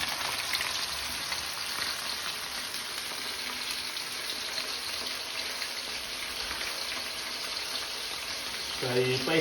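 Beef pieces deep-frying in hot oil for crispy chilli beef, a steady hissing sizzle that holds throughout at moderate volume, with a brief clatter near the end.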